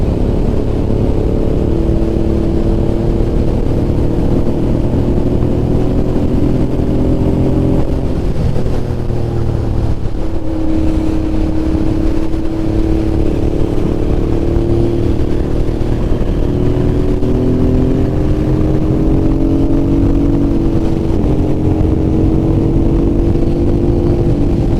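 A Honda NT650 motorcycle rides through twisty corners, its engine droning loud and steady the whole time, the pitch easing down and climbing again as the bike slows and speeds through the bends.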